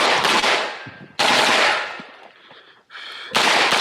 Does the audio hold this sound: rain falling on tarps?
no